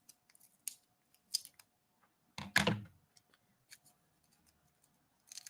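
Sticky craft scissors handled at a Sunday night crafting session: scattered small clicks and ticks, one louder, rasping snip-and-pull in the middle, then more light clicks, close and with no talk.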